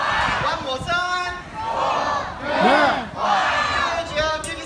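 A crowd at an aquarium seal show shouts a word back in unison, several loud collective calls in a row with brief lulls between them.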